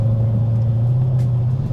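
A 2019 twin-turbo 5.0 Mustang engine runs through paddle-shift downshifts at around 3,600 RPM, a loud, steady low rumble heard from inside the car.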